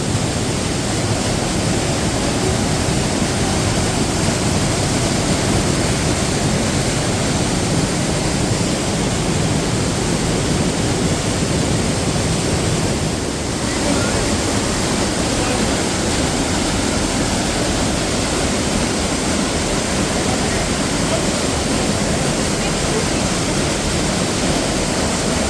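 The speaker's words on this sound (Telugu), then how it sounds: "వాటర్ ఫాల్స్ అయితే ఇక్కడ ఉంది. పైన నుంచి వస్తూ ఉన్నాయి వాటర్." A hidden waterfall in Kullu pours down from above, making a constant, dense rushing roar that stays steady and close throughout, with no talking.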